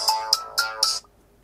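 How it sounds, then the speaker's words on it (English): The Beat Plucker phone ringtone: four quick, bright plucked notes in a bouncy rhythm, loud and close, ending abruptly with near silence after. "phone ringtone, beat plucker"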